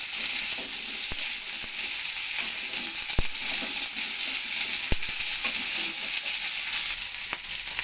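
Green chillies going into a vegetarian vegetable curry already frying in a pan: a strong, steady sizzle close by, punctuated by several sharp spatula taps against the pan, with nobody speaking.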